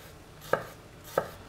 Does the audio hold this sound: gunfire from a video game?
no